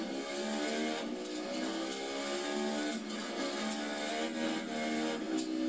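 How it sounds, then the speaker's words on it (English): Racing-game car engine from The Crew 2 held at full throttle, a loud, steady high-revving drone with layered harmonics that never lets up, with slight pitch wobbles as it strains. "I'm literally turning full throttle the whole time. Like, you can hear, right? Like, this is legit full throttle."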